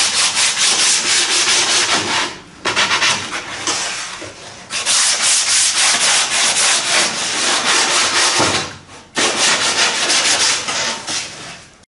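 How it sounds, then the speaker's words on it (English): Plywood edges are sanded with long, continuous, loud abrasive strokes close by. Two brief pauses break the rhythmic rubbing, and no one talks. "I'm just going to give everything here a nice little bit of sanding so there's no slivery edges on the plywood."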